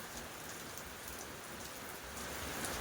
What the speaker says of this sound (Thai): ฝนตกหนักเห็นไหมฝนตกหนัก